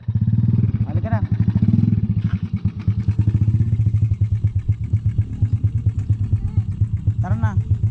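Motorcycle engine running nearby on a road in Batia, a steady mid-pitched drone with clattering and thumps, while people talk over it.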